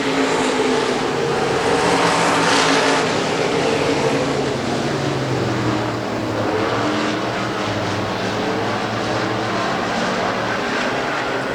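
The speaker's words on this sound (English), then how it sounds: "They're still side by side. Seffel down bottom, Vogel up top for fourth as they come back for lap number 2." Race cars roar around the dirt oval at Hagerstown Speedway, a loud continuous engine drone from a pack running side by side that swells slightly early on and holds steady with no talk.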